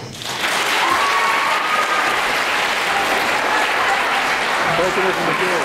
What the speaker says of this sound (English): Please join me in giving a huge hand to Peter Davison.